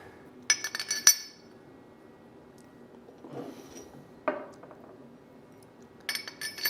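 Metal bolts and spacers for a DIY CNC mill power drawbar cylinder assembly clink and tap on a workbench, a few short bright clusters of contact separated by quiet handling.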